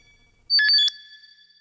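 A phone rings with an incoming internet call, giving a short bright burst of electronic ringtone tones that lasts under half a second and stands out loudly against near silence.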